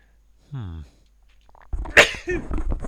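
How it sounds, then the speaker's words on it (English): A single sharp sneeze, preceded by a brief intake of breath, close to the microphone, followed by a voice speaking. "Excuse me for the sneeze."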